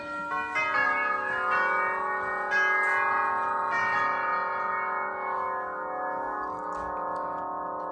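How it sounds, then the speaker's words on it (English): An antique clock with tubular bells chimes indoors, several clear, ringing strikes in sequence, each tone sustaining and slowly fading into the next. "it does have a very beautiful chime to it"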